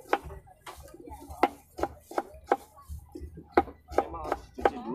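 Rapid knife chops through potatoes on a cutting board, sharp regular knocks about two per second, close and clear with no talking.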